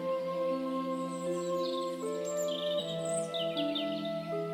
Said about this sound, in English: You can hear birds singing to each other.